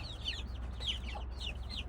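Backyard chickens of several breeds cluck softly in a coop, with a few short, quiet clucking phrases over a low steady background hum.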